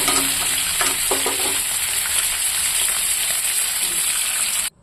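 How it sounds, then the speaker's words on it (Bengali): Chicken meat frying in oil in a kadai for a local chicken curry, a constant bright sizzle with a few clinks of stirring, close and loud, ending abruptly. "মাংসটা এখানে ভাজা করে আমি নামিয়ে নিয়েছি"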